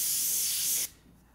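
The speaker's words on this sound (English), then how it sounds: "So now that I got some red on the airbrush," Airbrush spraying red paint for a zombie-themed stencil painting gives a steady, loud airy hiss that holds for most of the moment, then cuts off abruptly, leaving faint background noise.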